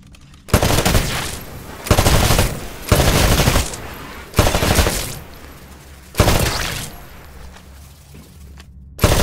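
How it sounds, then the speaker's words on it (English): Rifle fire on a shooting range in the Titanfall video game, loud rapid bursts, about six of them, separated by short pauses, close and with no voices. "Switch to your rifle. To take a more calculated shot, you can aim down the sights of your weapon."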